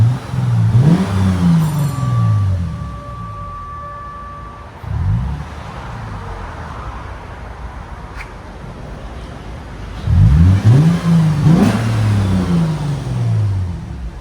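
A 2013 Lexus GS 350 with a 3.5L V6 and LCGP resonators revs hard three times, each loud rising burst settling back to a droning idle between blips, heard close with no talk.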